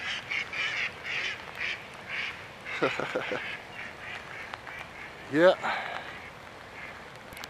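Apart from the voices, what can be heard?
ducks quacking at a pond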